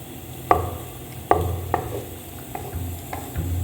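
Sago payasam being mixed with sugar syrup in a pot with a spoon, heard as several close, sharp scrapes and knocks against the pot over a low background hum.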